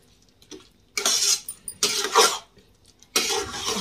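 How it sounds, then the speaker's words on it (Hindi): Manchurian balls are tossed with masala in a pan, giving three separate bursts of scraping and clattering from the utensil against the pan, each about a second long, with short quiet gaps between them. "अब इसमें मैं सारे बॉल डाल रही हूँ और इसे मिक्स कर दूंगी"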